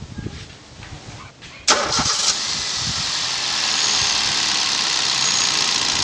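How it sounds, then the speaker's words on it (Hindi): A Hyundai car engine cranks and catches with a sharp start, then settles into a steady, smooth idle that continues to the end, with a little faint background noise. "तो सबसे पहले करते हैं कार को स्टार्ट।"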